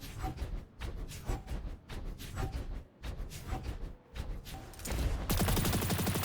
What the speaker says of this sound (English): It looks like we've got some ricochets